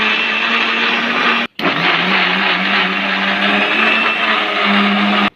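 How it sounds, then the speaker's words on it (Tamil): A kitchen mixer grinder whirs loudly at close range as it blends mango, sugar and milk, with a brief stop of about a quarter second before the motor starts up again and runs steadily to the end. "இதை வந்து மிக்சியில் போட்டு நல்லா அரைச்சி எடுத்துக்கலாம்."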